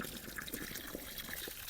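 Water pours into a container, a steady trickling fill with small splashy dribbles throughout, fairly faint and continuous without talk.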